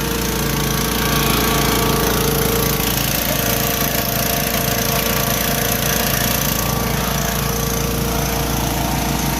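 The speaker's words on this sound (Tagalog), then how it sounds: "umandar na yung ating makina" A small water pump engine runs steadily and loudly throughout, with a rhythmic chugging pulse and no voices.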